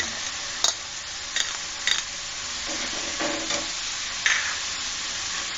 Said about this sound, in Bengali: ধনেপাতাটা নেড়ে চেড়ে দিচ্ছি মশলাটার মধ্যে